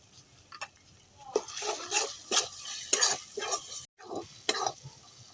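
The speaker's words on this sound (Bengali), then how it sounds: "এবার মশলাটা ভালো করে কষিয়ে নেব" Kasuri methi and ground roasted spices being stirred and sautéed in a pan for a vegetarian flour dish, with repeated scraping and clattering strokes against the pan over a light background sizzle and a brief pause near the end.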